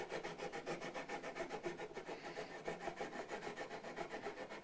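A radius beam is rubbed back and forth over the fretboard of an Epiphone EJ200 acoustic guitar, making soft, quiet, rhythmic sanding strokes in an even repeating pattern.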